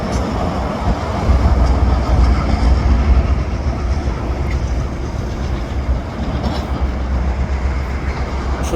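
A freight train hauled by four locomotives pulls out of a rail yard, a loud continuous rumble of engines and rolling wagons with faint clickety-clack, close and steady throughout.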